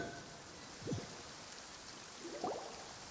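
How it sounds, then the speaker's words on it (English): Steady rain in Genshin Impact hisses evenly throughout, with two brief soft chirps rising over the constant patter. "It's been raining"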